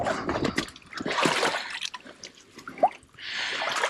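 Stream water flowing and trickling close by, with drips and small splashes in irregular bursts of varying loudness, no talk.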